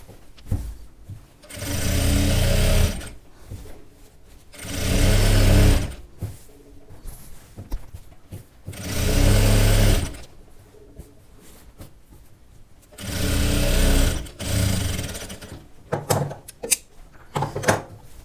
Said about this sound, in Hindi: और दूसरी सिलाई हम लगा लेंगे फटाफट से।